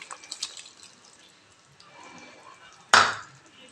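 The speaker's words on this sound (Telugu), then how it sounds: "ఇప్పుడు ఇందులోకి మనం ఫ్రై చేసి పెట్టుకున్న మష్రూమ్ వేసేద్దాము." Fried mushrooms tipped into simmering masala gravy in a pan land with one sudden, close wet splat near the end, after a stretch of faint quiet clatter and bubbling.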